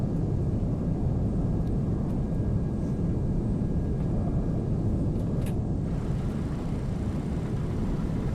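An MD-11 on its landing roll with a thrust reverser deployed, a broad, steady low-frequency jet roar that stays constant throughout, heard from inside the aircraft.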